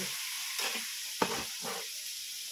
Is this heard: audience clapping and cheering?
no